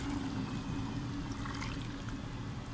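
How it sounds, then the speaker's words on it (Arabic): Duck broth poured onto green beans in a cooking pot, a steady close liquid pour with a continuous low rushing and splashing that holds evenly for about three seconds, with no voices. "وبكده هنزل بالشوربه على الفاصوليا"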